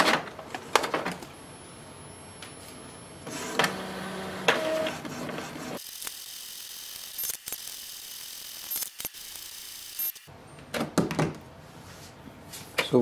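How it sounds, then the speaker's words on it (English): Epson EcoTank ET-2400 inkjet printer running a print job, with bursts of mechanical whirring, ratcheting and gear clicks separated by quieter stretches, heard close and alone. "The printer will print a page that will have password on it."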